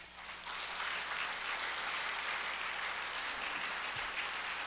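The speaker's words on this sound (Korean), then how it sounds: "우리 교회 장로님한테는 박수 한번 쳐주세요." A church congregation applauding an elder: even, dense clapping from a large crowd that holds steady for several seconds, with no talking over it.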